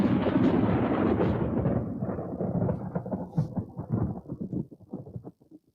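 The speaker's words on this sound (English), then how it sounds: "Here is the sound effect named Thunder 12." A loud thunderclap opens into a broad roar, then breaks into crackling, rattling rumbles that sputter out toward the end.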